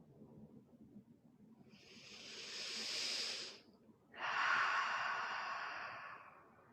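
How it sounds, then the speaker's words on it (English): Deep yoga breathing close to the mic: a long, slow, airy inhale swells and fades, a brief pause follows, then a strong hissing exhale trails off gradually. "Breathing deeply"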